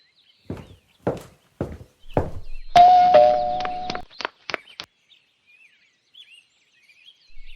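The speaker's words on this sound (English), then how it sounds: "I thought I heard someone ringing the doorbell." A doorbell rings once with a clear sustained chime, preceded by several thudding footsteps or knocks and followed by a few sharp taps, with faint bird chirps in the quiet background.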